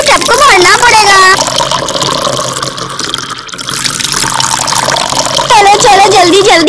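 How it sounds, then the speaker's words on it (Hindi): Water is poured quickly into a tub in a village home, producing a loud, close splashing gush that surges and eases, while someone talks over much of it. "जल्दी जल्दी पानी डाल देती हूँ टब में"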